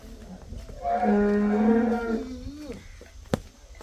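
A cow for sale on a Punjabi dairy farm gives one long, deep moo up close, rising and falling over about two seconds against quiet farmyard background.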